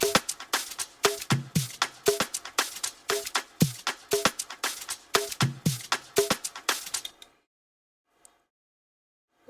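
A dry drum pattern plays at a steady tempo, sharp kick, snare and hi-hat hits, then stops abruptly into silence with one faint tick.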